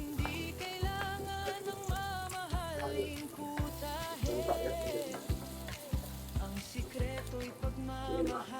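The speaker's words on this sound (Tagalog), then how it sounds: "Gisa tayong bawang." Garlic sautéing in a pan, a steady loud sizzle of frying with crackles and pops, close up and continuous, with occasional stirring and no talking.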